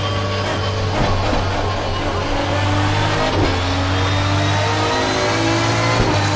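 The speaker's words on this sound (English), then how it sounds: "You will be able to hear all the cars go by the cameras." Race cars in Assetto Corsa Competizione drone loudly and continuously, engines humming at steady pitch with several faint swells as cars sweep past trackside cameras.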